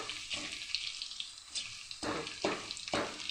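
Masala for a mutton curry fries in a pan, producing a close sizzle broken by repeated bursts of scraping and stirring.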